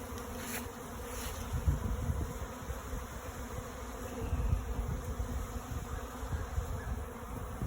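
A swarm of honeybees flies through the open air, producing a dense, continuous buzzing drone of many insects at moderate distance, steady throughout with slight swells.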